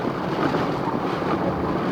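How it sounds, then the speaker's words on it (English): A car pushes through deep water on a flooded road during a heavy downpour, giving a loud, continuous broadband wash and roar of spray and rain that stays steady throughout. "My car hitting the water over there"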